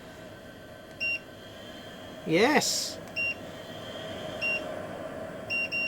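Control panel buttons on a Fumeclear FC-100A fume extractor give short electronic beeps, several separate beeps spaced across the clip, close and clear, with a brief spoken exclamation in the middle.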